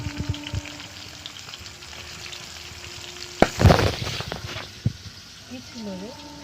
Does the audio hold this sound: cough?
no